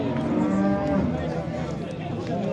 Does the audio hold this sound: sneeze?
no